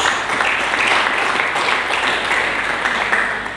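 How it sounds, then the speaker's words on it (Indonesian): A church congregation claps together in a steady, dense wash of applause that holds evenly from start to finish and fades slightly at the end. "Mari kita berikan tepuk tangan bagi Yesus Kristus."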